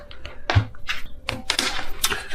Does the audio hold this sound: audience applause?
no